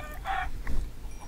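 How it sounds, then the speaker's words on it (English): Chickens in the Minecraft video game give a couple of short, nearby clucks over a quiet background, with no talking. "Look at all the chickens, guys."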